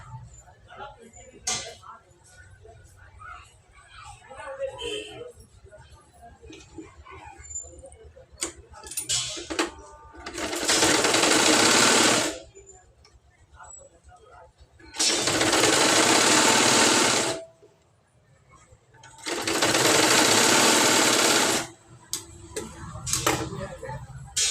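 A sewing machine stitching a lining blouse, running in three loud, sustained bursts of fast whirring stitching, with someone talking quietly between the runs.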